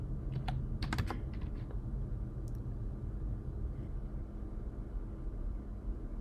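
A computer keyboard is typed on in a short run of light, close key clicks while a password is entered on an Ubuntu Linux machine, followed by a steady low background hum and no speech.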